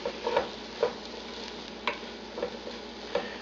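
Beef tongue and sliced mushrooms cooking in a pan, a soft steady sizzle broken by several light clicks and taps of a utensil stirring, close and quiet with no talking.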